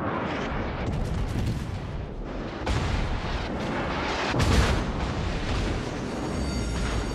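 Warship main guns firing in World of Warships, a dense, rumbling barrage of booms and blasts over a continuous roar of battle noise, with a heavier swell midway.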